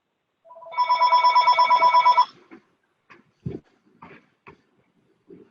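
A telephone bell rings in one continuous burst lasting about a second and a half during a Medicare waiver webinar, followed by faint, brief sounds in a quiet room.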